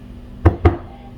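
A filled cake pan for a Shirley Temple cake is rapped twice on a counter to knock out air bubbles. The two close, solid thuds come about a fifth of a second apart, with quiet around them and no talk.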